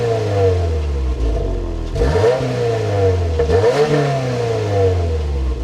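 A 2025 Subaru WRX tS engine fires up by push button and revs hard several times, the pitch climbing and falling with each throttle blip, close and loud.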